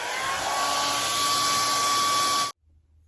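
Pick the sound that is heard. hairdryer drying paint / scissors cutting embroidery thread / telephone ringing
hairdryer drying paint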